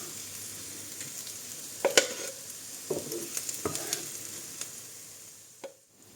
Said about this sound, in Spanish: En la misma sartén marcamos los gambones.